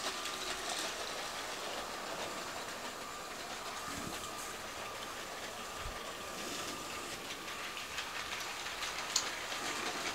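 A Bluebrixx Big Boy model steam locomotive runs steadily on a tight R56 curve of model track, giving a continuous, even rolling rattle and faint clicking at moderate distance for the whole stretch, with no talking.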